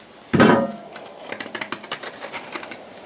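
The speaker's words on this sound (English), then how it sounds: "I'll go ahead and give this a quick trim up just to make sure there are no burrs that snag up in that coupler." Trimming burrs off a cut pipe end for a sink drain coupler: a sharp scraping stroke, then a quick run of small light scraping clicks in an uneven rhythm, close by.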